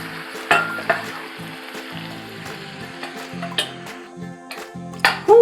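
Ground beef with peas, carrots and ale gravy sizzles steadily in a pan while a spoon stirs and scrapes, giving several sharp clinks against the cookware, close up with no talking.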